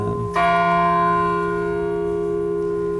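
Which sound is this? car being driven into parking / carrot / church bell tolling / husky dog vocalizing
church bell tolling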